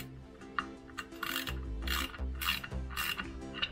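M8 screws are wound in with a ratcheting tool to push a brake drum off a Mitsubishi Triton ML L200 pickup. Quiet, close clicking ratchet strokes come in short repeated bursts.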